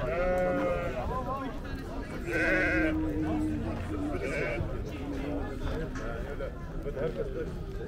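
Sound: sheep bleating at livestock market

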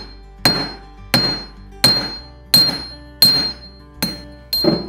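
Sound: hammer forging a silver cuff bracelet

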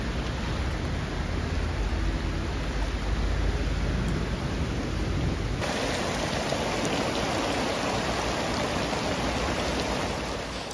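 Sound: heavy rain falling on a North Face Wawona 6 tent

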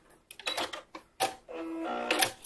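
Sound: sewing machine stitching a swim top strap

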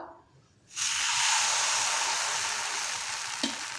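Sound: batter poured into a hot appam pan, sizzling

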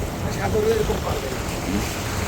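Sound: water bubbling and churning beside a trawler boat

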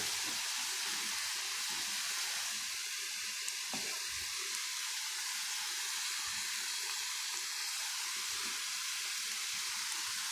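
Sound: ginger garlic paste sizzling in snake curry

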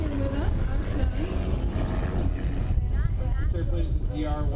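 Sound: DR-107 aerobatic airplane flying at air show

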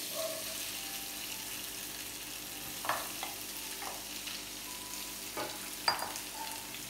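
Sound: potatoes frying in a pan with cumin

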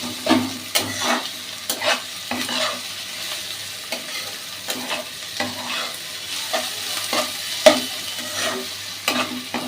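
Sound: food frying and being stirred in a pan

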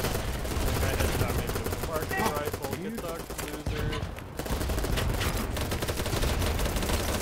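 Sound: gunfire in the video game Battlebit Remastered

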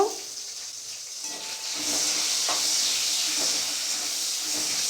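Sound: chopped tomatoes added to hot spiced oil, sizzling

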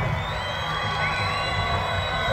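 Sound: crowd applauding and cheering at stadium inauguration

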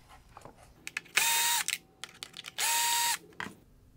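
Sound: screwdriver removing Phillips head screws from Infiniti Q50 LED headlight

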